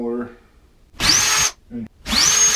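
A power drill bores holes for wall anchors while a surface-mount medicine cabinet is installed in a bathroom, with two loud, close bursts of about half a second each separated by short pauses, and a voice speaking between them.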